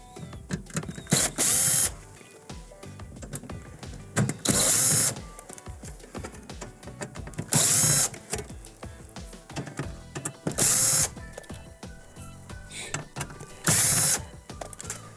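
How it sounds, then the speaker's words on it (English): A power screwdriver repeatedly whirs in short loud bursts, removing number 2 Phillips screws from a Whirlpool or Maytag microwave's control board, with clicks and handling noises between the bursts. "we can now remove the number 2 Phillips screws that are securing the actual control board onto the actual control panel"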